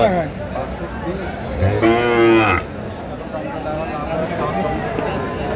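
A young Sahiwal bull calf gives one loud, drawn-out moo nearby, over a busy crowd of chattering voices at an outdoor cattle market in Chittagong.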